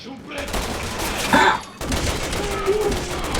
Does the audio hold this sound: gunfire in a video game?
yes